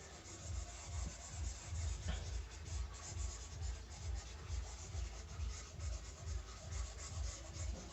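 Writing being rubbed off a classroom board, a continuous near, rhythmic back-and-forth scrubbing at a steady pace for several seconds, with no talking.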